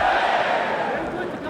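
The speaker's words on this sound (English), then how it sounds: "Crowd's going nuts." A crowd roars and cheers loudly and continuously in an arena during a Pride MMA bout between Igor Vovchanchyn and Nobuhiko Takada, a dense wall of voices filling the whole moment.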